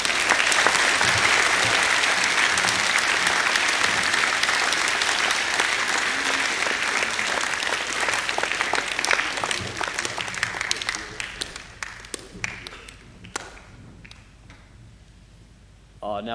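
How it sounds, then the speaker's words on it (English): Sustained audience applause at a school assembly honouring a boys' sports team, a dense, even wash of clapping that thins in the last few seconds into scattered individual claps before fading out. "Give these boys a round of applause."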